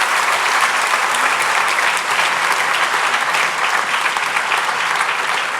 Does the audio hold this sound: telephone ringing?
no